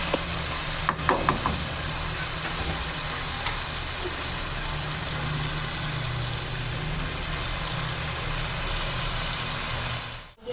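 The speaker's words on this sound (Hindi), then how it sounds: "तो अब इसमें जो हमने पालक धो के रखा हुआ है वो डाल देते हैं" Spinach dropped into chicken frying in oil and stirred, giving a steady loud sizzle throughout with a few soft clinks near the start and a brief dip at the end.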